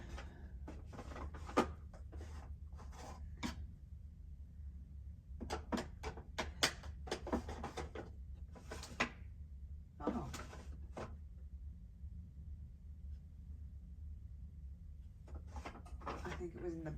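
Wooden drawers in a craft workspace slide open and shut again and again during a search, in clusters of quick knocks and rattles separated by quiet gaps, at close range under a faint background hum.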